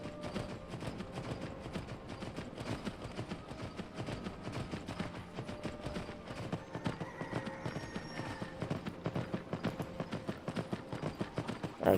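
Horse hooves clip-clop steadily in Skyrim VR, a continuous rhythmic trotting with a brief whinny, all close and moderately loud with no talking.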